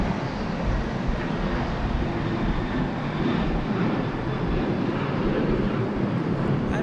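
An aircraft taking off at Sydney Airport in rising wind gives a continuous loud rumbling engine roar that stays steady throughout, with wind buffeting the microphone.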